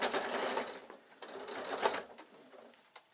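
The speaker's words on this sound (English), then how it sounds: "I should have changed my needle because you can hear it clunking a little bit." Sewing machine stitching a fabric bag near the edge, its dull needle clunking in short rapid bursts over a continuous mechanical whir, close and moderately loud, with a brief pause near the end.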